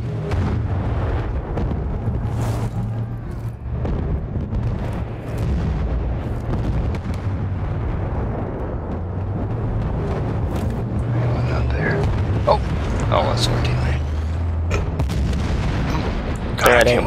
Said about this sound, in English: I made a vehicle go boom!